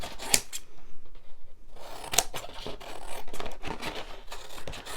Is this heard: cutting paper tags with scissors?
yes